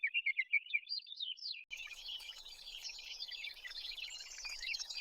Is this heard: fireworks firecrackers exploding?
no